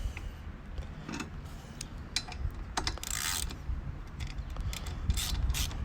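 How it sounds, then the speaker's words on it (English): A ratchet wrench loosens the clutch cover bolts on a 49cc engine: rapid, close, dry metallic clicking in uneven runs, with small clanks between strokes and no talk. "Let's just quickly remove these bolts."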